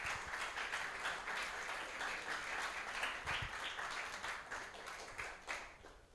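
A church congregation applauding during a Spanish-language service, a steady wash of many hands clapping at moderate distance that holds throughout with little variation.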